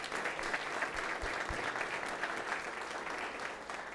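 Audience at a school board meeting applauds, honoring a high school wrestling team, steady moderate clapping throughout with a few low thumps.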